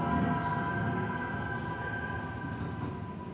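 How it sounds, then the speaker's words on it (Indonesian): An automatic amusement ride car carrying four passengers rolls along its track inside a dinosaur attraction, giving a steady low rumble with faint tonal whine throughout, moderately loud and continuous. "Pengunjung disediakan satu gerbong yang berisikan 4 penumpang dan bergerak secara otomatis."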